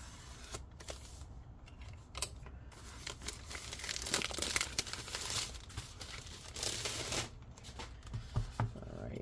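Plastic packaging around a replacement laptop screen is cut and torn open, giving close, continuous crinkling and ripping with short sharp snips throughout.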